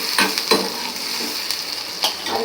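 Onion and small tomato pieces being stirred and sautéed in a pan, a close, continuous sizzle with several distinct scraping stirring strokes, no talking.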